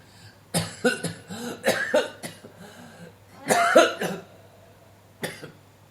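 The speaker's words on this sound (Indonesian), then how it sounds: "Maaf, batuk." A radio presenter on an evening program for seniors coughs into the microphone several times, with a brief throat clear. The bursts come close together and are loud and near, with short pauses between them.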